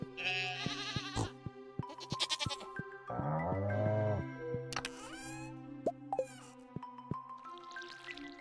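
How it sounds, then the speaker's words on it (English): Goats in a farming video game bleat in repeated loud, wavering cries, mixed with plopping and dripping game effects and a steady background tone, with no talking. "Look, we got two goats now."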